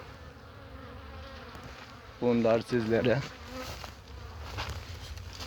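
Honeybees buzz at the hives during winter hive care, a steady insect drone with a louder close pass in the middle. A voice talks briefly over it.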